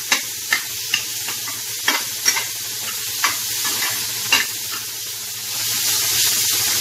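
Carrots and other vegetables for momos sautéing in a pan, a steady close sizzle punctuated by regular sharp clacks of a spoon stirring, the hiss swelling louder toward the end.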